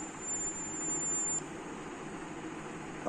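A small electronic buzzer on a temperature-check automatic gate circuit gives a thin, high, steady tone for over a second, then cuts off, leaving a low background hum.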